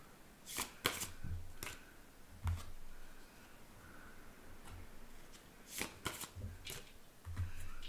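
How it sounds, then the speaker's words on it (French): Oracle cards are shuffled and drawn by hand, giving a quiet series of soft riffling and snapping bursts spread irregularly over several seconds. "J'ai envie de retirer une carte là-dessus encore."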